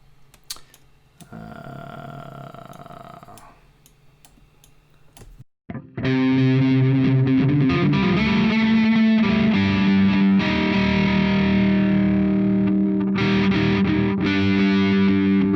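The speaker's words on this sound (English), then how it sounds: "if we put the distortion pedal behind, can you hear that there's distortion on the delay?" An overdriven electric guitar, with the distortion pedal placed after the delay pedal, rings out with loud, sustained chords whose echoing delay tails carry a gritty distortion, following a quieter, cleaner passage and a brief pause.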